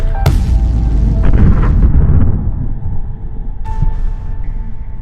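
9mm Glock pistol firing 115 grain Global Ordnance ammunition outdoors, a sharp loud report with a booming rumble, followed by further muffled shots and echoes.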